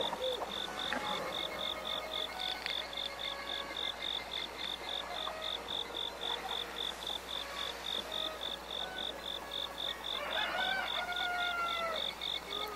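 Rooster crowing and chirping in Zelda: Breath of the Wild, heard alongside a steady, rhythmic cricket- or frog-like pulsing ambience with no talking.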